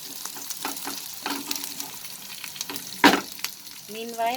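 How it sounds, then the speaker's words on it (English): Onions cook in a pan with a soft, moderate sizzle broken by stirring scrapes and clinks, one sharp utensil knock near the end. "I'll cook till the onions become translucent"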